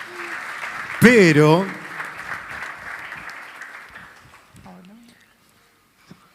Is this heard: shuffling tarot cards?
no